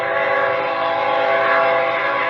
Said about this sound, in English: Come on, train, pass.